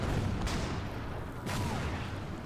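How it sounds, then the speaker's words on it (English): Artillery fire in the wartime strategy game Order of Battle, set in the Huertgenwald: two sharp, loud booms about a second apart, each trailing into a rumbling decay over dense battlefield noise. "Then over here the artillery will open up on these guys."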